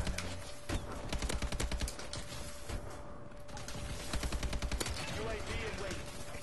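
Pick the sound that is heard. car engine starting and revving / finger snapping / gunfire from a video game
gunfire from a video game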